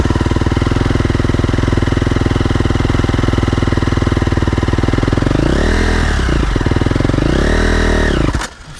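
Dirt bike engine idling loudly up close with a steady rapid putter, rising in two short revs before cutting out abruptly at the end.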